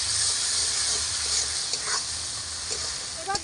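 Spice paste mixed with salt and sugar fries in a pan for prawn pulao, giving a continuous bright hiss and sizzle with occasional stirring scrapes.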